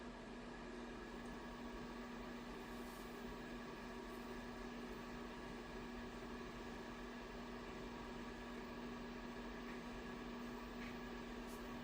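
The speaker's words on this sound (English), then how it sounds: "we're going to hear just how loud the active cooling fan is when it kicks onto its higher" Steady whirring of the active cooling fan in a SHEHDS 200W RGBACL LED PAR light running at high RPM, a continuous close hum with a strong tonal drone and broadband airy hiss, unchanging throughout with no talking.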